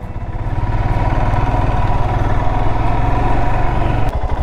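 An adventure motorcycle rides along a rough road, its engine giving a loud, steady, close mid-pitched drone with rapid pulsing throughout and no talk.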